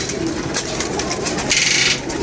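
A pigeon coos softly and close by, low murmuring calls against a busy background with some rustling.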